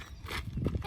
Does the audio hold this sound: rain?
no